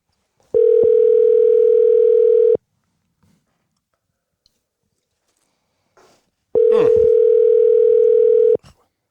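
A telephone call is being placed: two long, steady ringing tones sound about four seconds apart, loud and clear, with faint handling rustle in the quiet gap between them.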